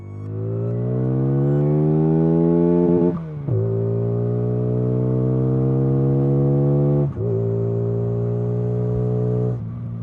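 Engine of a Benda Napoleon Bob 250 motorcycle revving hard and loud up close, its deep exhaust note climbing through gears with brief dips at each shift.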